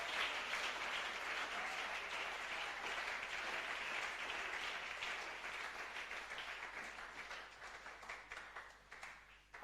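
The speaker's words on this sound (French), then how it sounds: "Rends encore gloire à Dieu en acclamant." A church congregation applauds in sustained, dense clapping that holds steady for several seconds before thinning into scattered, fading claps, heard from within the crowd.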